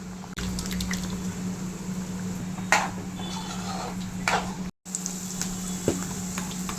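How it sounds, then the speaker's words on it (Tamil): Cooked dal (lentils) is poured into a pot of sambar on a home stove, making soft, intermittent liquid splashes and drips over a low background hum, fairly faint and without talk. "இப்போ நம்ம வந்து பருப்பு அதில் ஊற்றிடலாம்"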